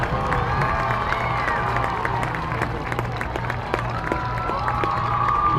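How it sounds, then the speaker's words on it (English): Crowd at a high school varsity football game applauds and cheers for a middle school eighth grade band, a steady, loud wash of clapping and shouting with high voices mixed in, sustained throughout. "Let's give one more round of applause for our Jackson Middle School 8th grade band."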